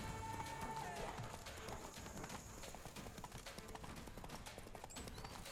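Horse hooves gallop in a fast, steady clip-clop through The Witcher 3 video game, loud and continuous alongside game music and ambience.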